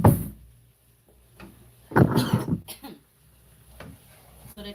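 Coughing and throat clearing come from fumes of Scotch bonnet pepper during cooking, with a harsh cough at the start and another louder burst mid-clip, close, amid light kitchen clatter.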